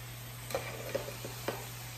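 Meat frying in a pan, a faint steady sizzle with three sharp knocks of a utensil chopping and stirring it, close and without talk.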